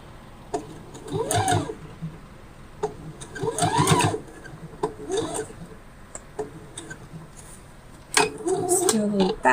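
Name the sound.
sewing machine doing a back stitch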